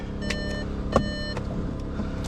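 A 2016 Volkswagen Tiguan that cranks but won't start: a steady starter drone runs throughout, with a few sharp ticks and chimes over it, at moderate volume.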